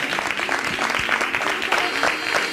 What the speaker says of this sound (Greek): Ένα πολύ δυνατό χειροκρότημα για το ζευγάρι μας.